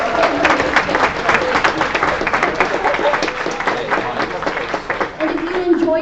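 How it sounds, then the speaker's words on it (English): A crowd at a Husky Startup Challenge demo day bursts into applause and keeps clapping steadily, loud and close, with some voices mixed in and a slight dip near the end. "Let's give them a big round of applause."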